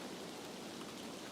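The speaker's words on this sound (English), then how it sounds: "all I hear is the rain." Steady rain falls in a soft, even hiss, quiet and continuous with no other sounds.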